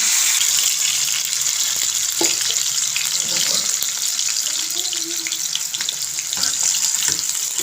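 Chopped onions fry in hot oil in a home kitchen, giving a steady bright sizzle with scattered pops and a few utensil clinks.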